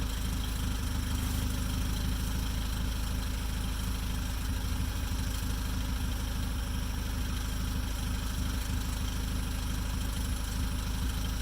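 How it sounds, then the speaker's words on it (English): Modified MK6 Ford Fiesta idling with a blowing exhaust, giving a steady low rumble with a continuous broadband hiss that holds constant and close throughout, with no talking. "I'm going to start the car up, find exactly where it is and bung some of that on there. Yeah, it's definitely blowing there."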